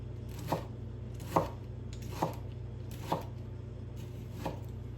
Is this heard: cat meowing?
no